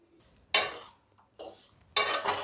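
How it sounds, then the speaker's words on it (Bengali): Semolina dry-roasting in a pan for homemade jalebi batter, scraped and stirred with a spoon in three distinct bursts of gritty scraping, close and fairly loud, with quiet pauses between. "আমি সুজিটা আগে একটু ভেজে নেব,"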